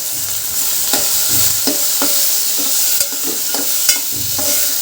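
Rice cooking in a pan with a continuous loud sizzle, while a spoon stirs it in a regular rhythm of scraping strokes about twice a second, close up with no talking.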